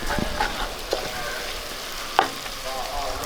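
Tomato masala with spice powders frying in a pan for chicken chukka, a steady low sizzle with a few sharp clinks of a spoon stirring against the pan, close and fairly quiet, no talking.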